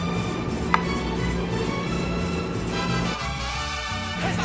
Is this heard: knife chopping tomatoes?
yes